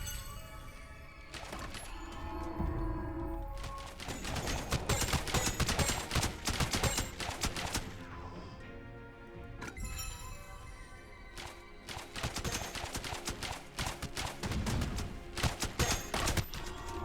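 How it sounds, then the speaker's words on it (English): Rapid volleys of ballista shots and crashing impacts in the Siegecas tower defense roguelite, dense clattering bursts in several waves with brief lulls between them, loud and continuous with no talking. "those ballista shots are the key"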